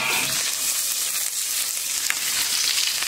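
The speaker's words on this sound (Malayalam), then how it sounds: "ഇനി വെളിച്ചെണ്ണയിലൊന്ന് വറവെടുക്കാം." Mustard seeds, curry leaves and dried red chillies tempering in hot coconut oil give a steady, close, bright sizzling hiss with a few small pops and no talking.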